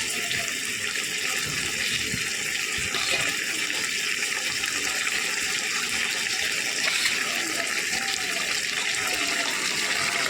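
Water is added to a pan of pointed gourd and prawn curry, making a continuous bright hissing, bubbling rush that stays steady and close for the whole stretch, with no speech.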